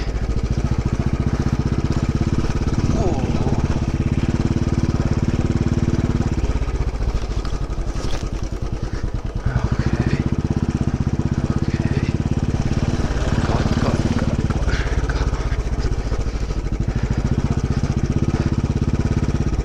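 A motorcycle engine drones steadily during off-road riding on a rocky hill track in India, loud and continuous with bumps, clatter and rumble throughout.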